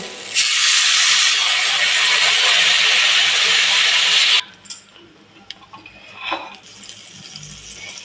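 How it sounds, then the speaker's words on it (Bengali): Water hits a frying spice paste for a Bengali tangra fish curry, bursting into a loud, sustained steamy hiss for about four seconds, then dropping to a softer bubbling sizzle with faint utensil clinks. "পরিমাণ মতো জল দিয়ে দেবো"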